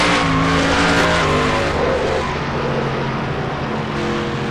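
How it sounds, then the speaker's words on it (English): A race car in a Cars racing game spins out on the back straightaway at World Wide Technology Raceway, with a loud, sustained roaring engine and tire noise that sweeps across the clip amid other cars racing nearby. "Racelot starts spinning in the back straightaway"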